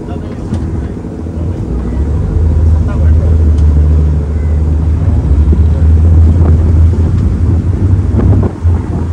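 A boat crossing Dubai Creek from the Al Fahidi water transport station gives a steady, close low engine rumble, with wind buffeting and water noise running throughout.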